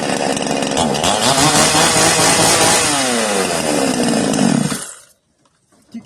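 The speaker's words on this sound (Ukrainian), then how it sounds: "Це бензопила одноручка К300С." A PRO-CRAFT K300C one-handed petrol chainsaw roars loudly and steadily, its pitch shifting as it bites through wood, then cuts out abruptly, leaving near silence.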